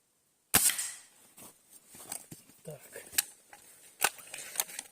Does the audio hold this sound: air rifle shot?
yes